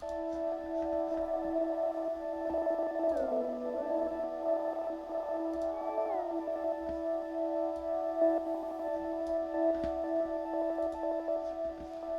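A washed-out ambient pad sustains with a delay effect in Ableton, its steady tones trailing into soft echoes and gliding pitch bends over a constant low hum, with no voices.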